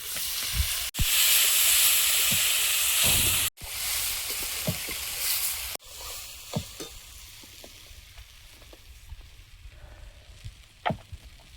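Dal and broken wheat with ginger and slit green chillies fry in a pot with a steady, loud sizzle and hiss. Scattered clinks and scrapes of stirring come through as the frying settles to a softer crackle.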